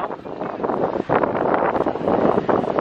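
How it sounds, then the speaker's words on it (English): Strong gusts of wind buffet the microphone outdoors while walking near a park on a hot sunny day, a loud rumbling roar that swells and dips in uneven bursts with no voices heard. "it's pretty windy, which is actually really nice to cool us down a little bit"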